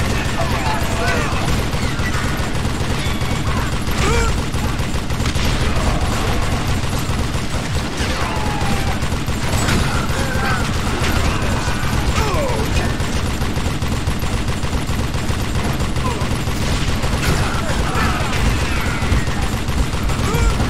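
Steady, dense gunfire in the Western shooter Call of Juarez: Gunslinger, rapid shots and bursts rolling continuously for about twenty seconds at loud, near level, with someone talking over it.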